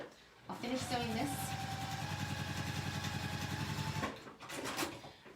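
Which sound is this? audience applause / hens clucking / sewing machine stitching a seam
sewing machine stitching a seam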